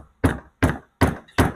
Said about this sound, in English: what hammering the knot does is it loosens the fibers in the strap itself